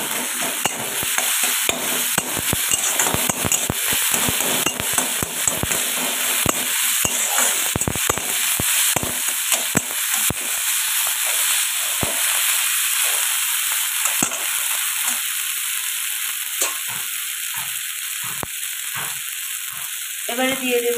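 Ginger paste frying in oil with chopped tomato and bay leaf for a fish curry with parwal, a loud continuous sizzle broken by sharp scraping stir strokes, easing toward the end.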